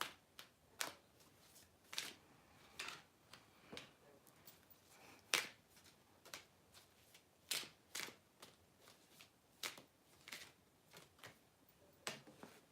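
Angel oracle cards shuffled and snapped in the hands, a quiet series of sharp riffling slaps and flicks repeating roughly every second, with no talking.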